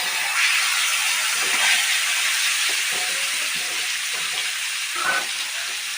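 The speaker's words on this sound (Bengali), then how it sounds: "তেলটা পুরো গরম হয়ে গেছে, এখন আমি মাছটা দিয়ে দেব।" Rupchanda fish sizzling in hot mustard oil on a tawa, a steady loud hiss throughout with faint crackles and pops, no talk.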